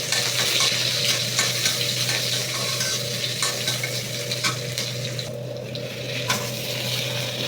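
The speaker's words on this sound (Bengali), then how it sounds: "এক চুলায় মাংস কষানো প্রায় হয়ে গেছে" Chicken meat sautéing in a pan for biryani, with a steady close sizzle and repeated scraping, stirring strokes of a utensil against the pan.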